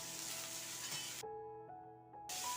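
Onion and a halved green chili sautéing in a pan for Tamil-style masala sundal, a steady close sizzle with a faint tonal hum running through it.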